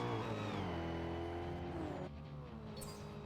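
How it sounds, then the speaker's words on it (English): A TVR race car in the Forza Motorsport video game on Xbox, its engine roaring at high revs and shifting pitch as it races past close by, then dropping to a lower steady drone. "that TVR was really fast"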